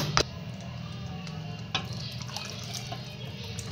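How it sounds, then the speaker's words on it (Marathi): Water splashing and dripping into chole masala gravy in a home kitchen, two sharp drip-like splashes over a soft steady trickle, fairly quiet and close with no talking. "आता यामध्ये आपल्याला ग्रेव्ही कितपत पातळ हवी आहे तेवढं पाणी टाकून घ्यायचंय।"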